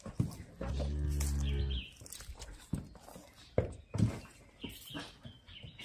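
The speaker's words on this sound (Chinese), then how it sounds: "这两头小牛老是跑出来" Two young calves moo loudly at close range, first in one long low call and then in shorter, fainter lowing, with footsteps shuffling nearby.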